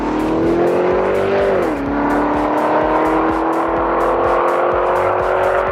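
A factory 6.1 liter Hemi V8 in a Dodge Charger SRT8 revs loudly and up close, its engine note dipping briefly and then climbing again in a steady, droning rise.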